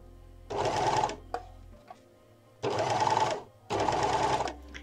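Overlock sewing machine stitching firm fabric around an outer curve, running in three loud bursts of steady whirring, with short pauses and small clicks between them as the fabric is turned.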